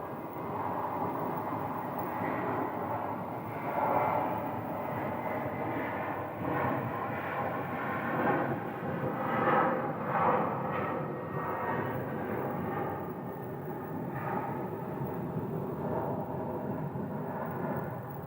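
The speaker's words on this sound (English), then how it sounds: "Allegiant Flight 3238 to Provo, Utah is taxiing onto the runway right now, right there." An Allegiant airliner taxis onto the runway at Phoenix airport, its jet engines giving a steady, fairly distant roar that holds for the whole stretch with slight swells and no talk.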